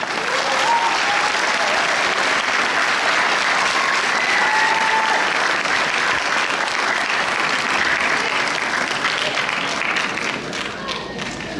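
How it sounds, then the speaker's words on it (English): Loud, dense applause from an audience at a Pakistan Independence Day community event, sustained steadily for about eleven seconds before thinning slightly at the end. "A huge round of applause for all of them."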